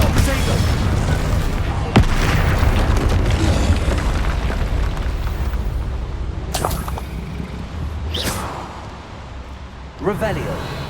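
Several Bombarda spell blasts from the video game Hogwarts Legacy burst as sharp booms at irregular intervals over a constant bed of game sound, with voices talking throughout.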